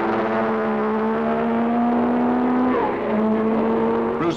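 Racing cars at Brands Hatch during the Race of Champions, engines droning steadily at high revs with whining pitches that slide and shift as cars pass; loud and continuous throughout, no voices.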